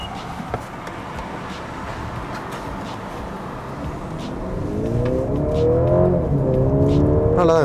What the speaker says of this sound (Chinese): 其实它也给了你一个额外的引擎声音，可能是从 Speaker 播出来吧